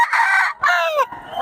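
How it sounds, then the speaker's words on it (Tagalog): Chickens at a market give loud, drawn-out calls close by, two strained crowing-like cries in quick succession with a short gap between them. "Oh, ang gulo ng manok."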